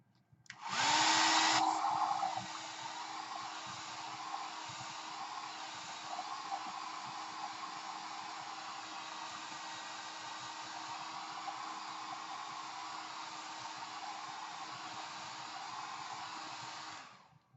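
A hair dryer blowing steadily to dry paint on an artwork, starting with a louder burst and then running as a continuous close whoosh with a low hum for many seconds.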